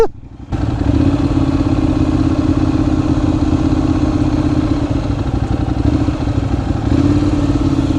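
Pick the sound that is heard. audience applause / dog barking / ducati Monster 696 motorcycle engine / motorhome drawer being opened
ducati Monster 696 motorcycle engine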